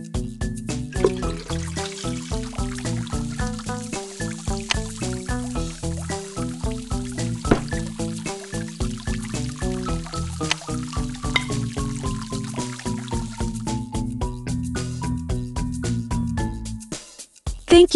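Water pours in a children's video game as a rapid run of bubbly, gurgling glugs that rise in pitch like a container filling, steady and fairly close, then stops abruptly.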